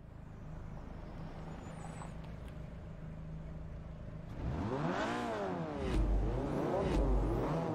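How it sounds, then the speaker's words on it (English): A Peugeot race car engine in Forza Motorsport 3 revs up and down in sweeping waves, rising and falling pitch repeatedly, loud and close with a steady background drone. "I find it weird that this Peugeot can make that kind of noise out of the engine."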